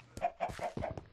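Minecraft chicken clucking on Xbox One: four quick, clipped clucks in a rapid rhythm, close and fairly loud, with nothing else around them.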